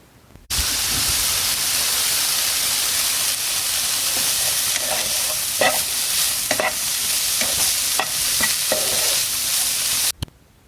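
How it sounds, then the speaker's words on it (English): Food sizzling and crackling loudly in a hot pan, a dense continuous hiss with scattered pops, stopping abruptly near the end. "The crackling of the pan,"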